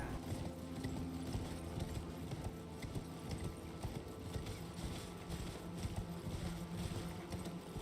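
Horse hooves clip-clop steadily in a video game, a continuous rhythmic trotting beat under a dense wash of ambient wind and background sound.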